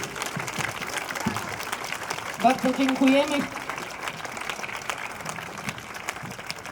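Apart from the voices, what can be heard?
applause at a protest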